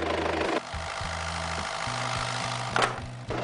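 A 4WD engine idles and revs to warm up, with a low, steady knocking idle broken by short throttle blips that swell and fall away, close and alone with no voices.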